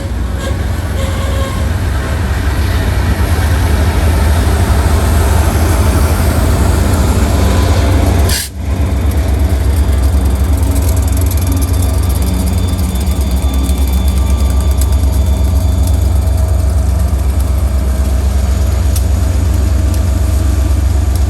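A freight train with four locomotives labors up a hill on wet rail, giving a loud, continuous low rumble and engine drone that stays steady throughout, with one brief dip partway through.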